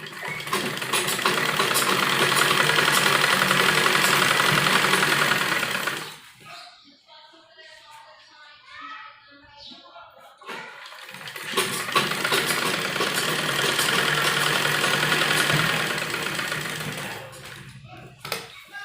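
A sewing machine runs steady seams along the fitting line of an embroidered suit lining, whirring loudly for about six seconds, pausing while a voice talks, then stitching again for several seconds before slowing.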